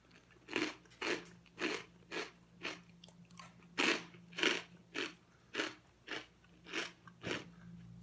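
Crunchy garlic omelette dish being bitten and chewed up close, about a dozen distinct crisp crunches in a steady rhythm, with no talking.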